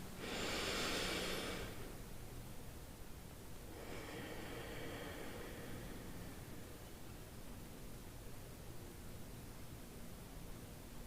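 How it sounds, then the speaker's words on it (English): Slow, deep breaths drawn in and let out during a calming exercise, a long airy inhale near the start followed by a softer exhale a few seconds later, heard alone over a steady hiss. "let's take a few deep breaths together as we do this"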